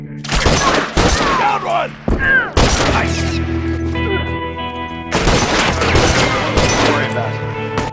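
Rifle gunfire in The Last of Us video game, a series of loud, sharp shots in quick bursts with ringing tails, a short shouted line from a character between them.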